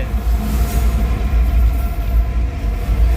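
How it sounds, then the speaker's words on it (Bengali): A freight train pulled by two engines passes alongside, heard as a steady, loud, low rumble with rattling that holds throughout. "মালগাড়ি যাচ্ছে, ডবল ইঞ্জিন নিয়ে যাচ্ছে।"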